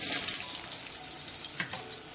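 Potatoes tipped into a hot pan with curry leaves for a pumpkin curry, sizzling and frying steadily with a few stirring scrapes, close and moderately loud, with no voices.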